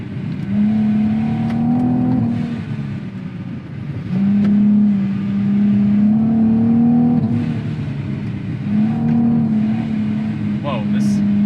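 Supercharged 2019 Nissan 370Z engine revving hard and dropping as it upshifts through gears, a loud steady drone rising and falling in repeated pulls, with a voice talking over it.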